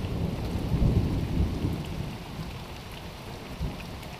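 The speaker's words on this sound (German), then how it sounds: "Jetzt kam genau der einsetzende Regen, der gemeldet worden ist und der nahm auch relativ rasch zu einem ordentlichen Gewitter." Steady heavy rain pours down during a thunderstorm by a lake at a mill, with low rumbles of distant thunder rolling underneath; no voices, a continuous dense wash of sound.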